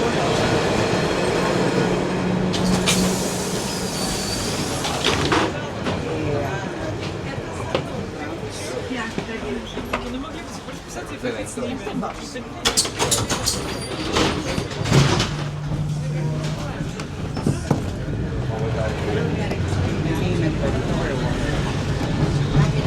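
A public rail ride in Milan: carriage rumble and clatter, the whoosh of doors sliding, and rising and falling motor tones, with people talking throughout over the train noise.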